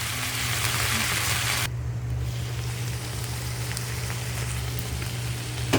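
Shrimp and vegetables sizzle steadily in a hot pan, a continuous hissing fry with a brief dip partway through and a low hum underneath.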